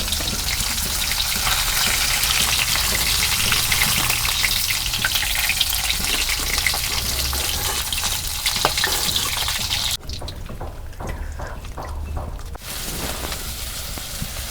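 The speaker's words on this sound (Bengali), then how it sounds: "মাছ ভাজা হচ্ছে" Rupchanda fish frying in a pan sizzles loudly and continuously up close, a dense crackling hiss that softens briefly near the end before resuming.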